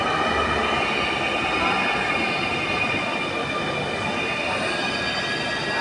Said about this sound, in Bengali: মেট্রো রেল এসে গেছে।